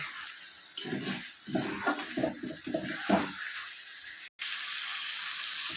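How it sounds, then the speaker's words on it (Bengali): Water goes into a pan of pangas fish curry cooked with curd, giving a close, splashing gush for a couple of seconds, then a steady hiss of simmering. "এই যে এখন আমি সামান্য জল দেব বেশি জল দেব না"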